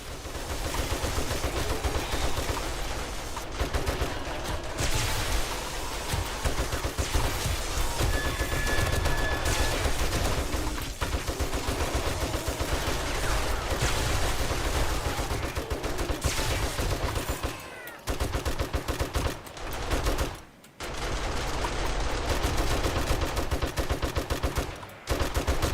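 Sustained, dense automatic fire from dual M60 machine guns in 7 Days to Die, the game's desert map, roaring almost without pause for the whole stretch, broken by two brief gaps near the end, with no talking over it.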